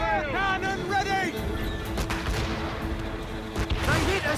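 Warships fire a cannon volley in Assassin's Creed Rogue during a naval battle against a fort, heard as a string of booming blasts and cracking impacts mixed with shouted voices and battle noise.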